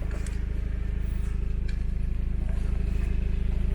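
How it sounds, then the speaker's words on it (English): A small, cheap air compressor powered from a vehicle battery inflates off-road tyres back up to about 29 psi, chugging in a fast, even, continuous pulse close to the microphone. "an air compressor. Just a small one, hooks up to the battery"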